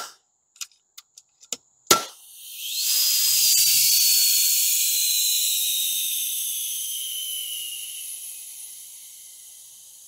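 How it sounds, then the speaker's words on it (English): An FX Panthera air rifle with its air bottle removed fires several quick sharp shots to degas, followed by one louder pop and a long fading hiss of escaping air, close and clear with no talking. "Simply remove your bottle and fire a couple shots to degas it."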